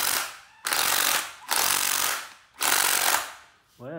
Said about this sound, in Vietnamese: một con máy vít của Đài Loan xuất Nhật